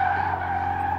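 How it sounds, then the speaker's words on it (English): A road car drifting through corners, its tires skidding in a short continuous squeal over a steady engine drone. "I started drifting the car through the corners"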